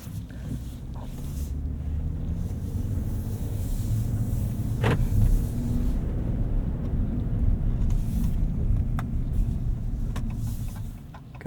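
A 2025 Ram Rebel X pickup truck drives on a damp road, heard from inside the cabin as a steady low engine and road rumble with tire hiss that holds level throughout, broken by a few faint interior clicks.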